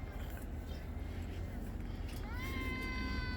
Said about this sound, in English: He's meowing. He's enjoying the night.